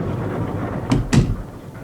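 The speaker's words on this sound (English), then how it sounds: "Shut the door behind you." A door swings shut indoors in two quick knocks, a soft bump followed by a firmer closing thud, over a low room hum with no talk.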